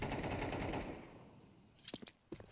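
A burst of gunfire during a competitive Counter-Strike match on the Vertigo map: dense, loud rapid fire at the start, then fading into quieter scattered shots and sharp cracks.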